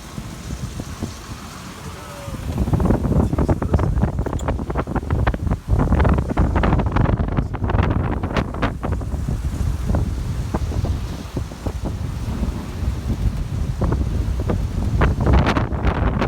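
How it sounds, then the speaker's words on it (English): Ocean waves and strong wind at sea on a sailboat during an offshore passage from Oregon to Alaska: a constant windy rush with repeated splashing crashes of water against the hull, loud and close throughout. "Look at those waves."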